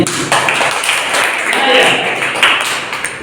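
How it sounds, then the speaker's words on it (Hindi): Children in a classroom clapping for themselves during a Hindi maths lesson on lines and shapes, a brief burst of group applause lasting a few seconds with a teacher's voice over it. "गुड, ताली बजा लो अपने लिए।"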